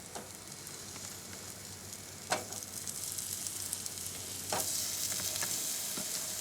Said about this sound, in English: If you get a nice searing sound, then we're in business.